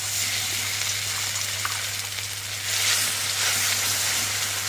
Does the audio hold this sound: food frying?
yes